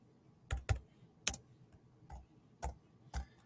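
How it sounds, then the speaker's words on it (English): Keystrokes on a computer keyboard while coding variables, conditionals and functions: several sharp clicks in uneven bursts, some in quick pairs, close and fairly quiet with no talk. "I'm going to type this first one and just copy and paste it."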